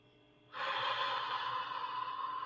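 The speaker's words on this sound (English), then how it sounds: "Continue with the 3 deep breaths." A long, steady deep breath drawn in during a guided meditation, starting suddenly after a quiet moment and continuing as an airy, sustained rush with no talking.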